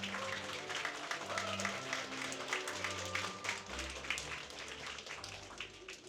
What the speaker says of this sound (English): Come on, give them a round of applause and encourage them.